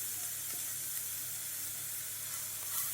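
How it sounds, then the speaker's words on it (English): Mushrooms with thyme sizzle steadily in a hot pan over medium-high heat, a constant close frying hiss with faint stirring scrapes and no talk. "we just want to stir that, cook that down over a medium to high heat"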